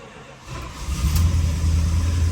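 A 1965 Chrysler 300L convertible with a 413 V8 cranks and catches, then settles into a steady, deep idle rumble close by, with no one talking.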